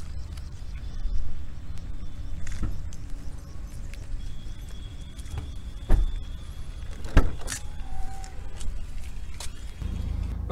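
A Mahindra XUV500 SUV being readied to drive gives a low idling rumble with scattered clicks and thumps from the cabin, no speech.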